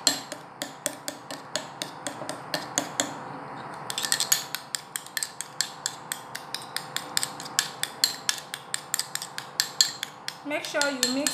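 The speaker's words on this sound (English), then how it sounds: "Then I'll be mixing the 3 ingredients together" Shea butter and two other ingredients stirred together in a bowl, a steady run of sharp clinks and taps of utensil against the bowl's side, close and fairly loud with a brief pause partway through.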